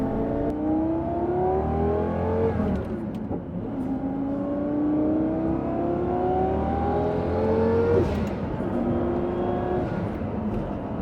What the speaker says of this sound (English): The turbo noises, the acceleration is absolutely phenomenal